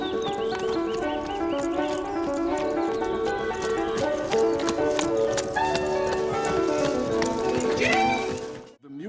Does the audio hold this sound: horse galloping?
yes